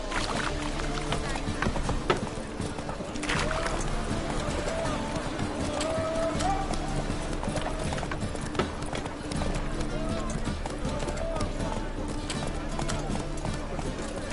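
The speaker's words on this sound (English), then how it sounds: "Run, Roach." Roach, a horse in The Witcher video game, gallops with steady rhythmic hoofbeats under continuous game music and ambience, while a voice talks over them.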